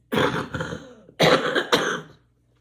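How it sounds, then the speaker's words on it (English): Three bursts of coughing and throat clearing from a person irritated by oak pollen, loud and close, with a short pause between each fit and silence at the end. "sorry about the coughing"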